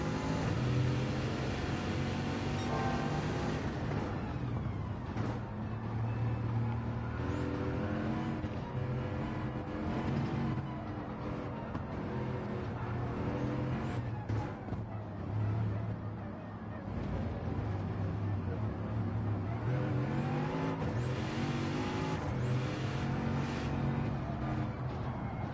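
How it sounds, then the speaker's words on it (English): A turbocharged race car engine in Gran Turismo 7 roars and whines continuously, revs rising and falling through gear changes with turbo whistles, loud and close. "Just listen to the turbos. This is an angry automobile."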